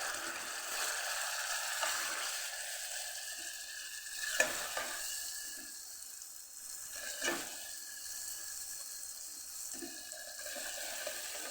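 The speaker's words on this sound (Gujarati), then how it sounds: "તો આપણે ટમેટાં અને જે મસાલો તૈયાર કરીને રાખેલો એ આપણે અહીંયા ઉમેરી દઈશું એને સરસ આપણે સાતડી લઈશું" Tomatoes and a prepared spice masala are sautéed in a pan for a Kathiyawadi drumstick-and-potato curry, giving a steady close sizzle with stirring and scraping sounds throughout, plus a few sharp clinks of a spoon against the pan.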